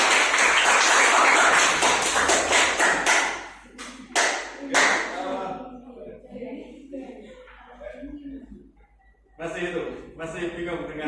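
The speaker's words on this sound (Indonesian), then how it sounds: "Tepuk tangan buat kalian sendiri." Students in a classroom clap for themselves in a loud burst of mixed hand claps lasting about four seconds, followed by chuckles, chatter and a second short round of clapping.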